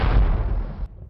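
Anti-aircraft cannon fire: a single heavy, booming blast with a short rumbling decay that cuts off after about a second.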